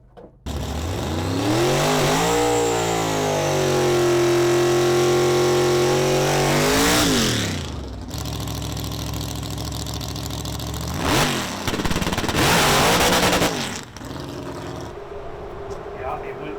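Drag race car launching hard off the line with a sidestepped clutch and a little tire smoke, its engine revving loud and rising in pitch for several seconds, then dropping back with further engine bursts and some talk.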